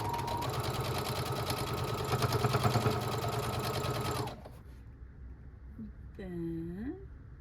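A sewing machine chain-pieces quilt triangles for a Jacob's ladder quilt, running steadily and loudly for about four seconds before stopping, followed by quieter handling noises and a brief rising squeak.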